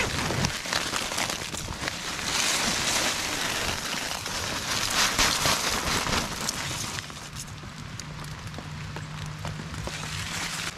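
Steady, soft patter of light rain drumming on the fabric of a Litefighter Catamount 2 tent on a freezing night, a continuous hiss with scattered drops, no voices.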